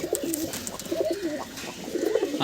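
Pigeons in a loft coo close by, soft throaty rolling calls repeating and overlapping in uneven bursts, alone with no talking.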